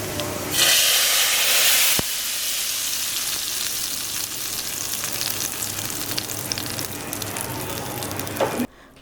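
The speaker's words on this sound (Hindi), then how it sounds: "फिर हम इसको डाल देंगे पतीली के अंदर" Loud, close sizzling erupts as cumin seeds hit hot oil for tempering, a dense crackling hiss that continues steadily for several seconds before cutting off.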